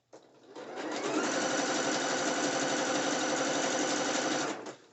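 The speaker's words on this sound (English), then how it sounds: "Now we're going to stitch this down." A sewing machine stitches braided elastic onto a net thong bikini, running in one steady, continuous burst that starts and stops abruptly, close and clear with no talking.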